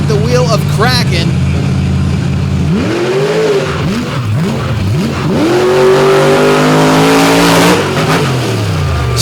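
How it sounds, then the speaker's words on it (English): Drag racing car named Kraken at a night event in Benson, North Carolina, charging hard down a straight-line track, its loud engine note climbing and shifting in repeated rising sweeps, with an announcer talking over it throughout. "Serious top-end charge for Pagliarulo"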